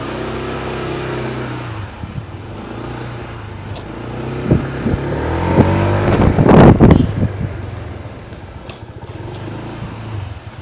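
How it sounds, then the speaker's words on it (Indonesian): A 2022 Honda ADV 160 CBS scooter engine idles with a low exhaust rumble, then revs sharply for a couple of seconds before settling back to a steady idle. "untuk bunyi knalpotnya ini cukup bagus ya menurut gua"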